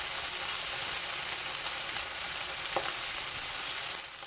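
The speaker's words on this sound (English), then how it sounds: "A nice sear, so you're going to hear it sizzle." Steady, close sizzling of meat searing in a hot pan, a continuous bright hiss with slight crackles throughout, no talking.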